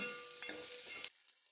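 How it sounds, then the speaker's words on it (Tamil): A cinnamon stick, cloves and a bay leaf frying in oil in a pan, a soft close sizzle with a couple of light stirring scrapes, cutting off abruptly to near silence. "இதோட 1 inch cinnamon stick, 4 cloves and 1 bay leaf add பண்ணிவிட்டு நல்லா ஃப்ரை பண்ணிக்கோங்க"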